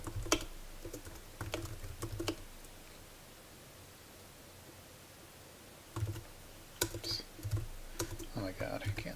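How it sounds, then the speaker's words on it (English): Bursts of rapid typing on a computer keyboard, close and fairly quiet, with a lull in the middle before clattering resumes, a few faint vocal sounds among the keystrokes. "Oh my god, I can't type."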